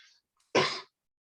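A single sharp cough, close and loud, in a shopping center, following brief faint breathy sounds in an otherwise quiet space.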